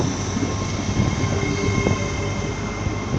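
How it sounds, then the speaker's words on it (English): Great Western Railway class 800 train, unit 800-009, running at Cardiff Central station: a continuous low rumble and hum of the passing train with faint wheel and rail noise, no voices. "is a Great Western Railway service to London Paddington"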